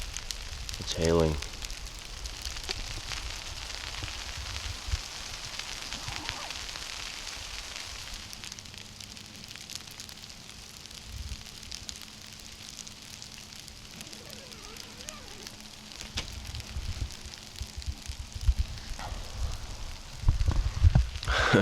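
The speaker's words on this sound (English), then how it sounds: "It's hailing." Hail falls during an ice storm at a winter campsite with no tent, making a faint, steady crackling patter over about twenty seconds, with a few louder clicks and thumps near the end.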